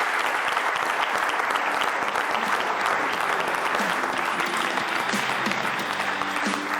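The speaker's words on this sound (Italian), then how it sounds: "Facciamo un applauso" A crowd at a sports event applauds a team with steady, continuous clapping, moderately loud and even throughout, with faint voices underneath.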